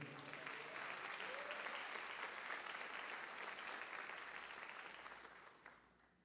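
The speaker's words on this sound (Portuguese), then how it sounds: "Aplauda ele, querido." A church congregation applauds during a sermon, a dense, steady wash of clapping from many hands that fills the room, holds for several seconds and then gradually fades, heard from some distance.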